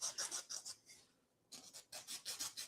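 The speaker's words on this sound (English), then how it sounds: "it does say to polish this surface here with sandpaper" A plastic gear piece for a ROKR Gearball puzzle kit is rubbed with sandpaper in quick, close back-and-forth strokes, a short pause midway, then more rapid rasping passes; quiet and without talk.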